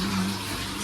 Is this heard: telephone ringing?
no